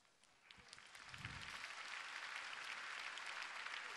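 Audience applause at a Polish talk on the golden era of Himalayan mountaineering at the Kolosy festival in Gdynia; a steady broadband clatter of many hands that swells after the first second and holds full and even, with no talk over it.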